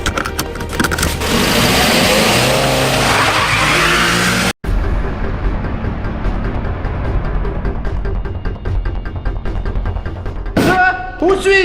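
A car speeds away loud and close, with tire skid and roaring road noise. After a brief cut, a lower, steadier engine rumble continues.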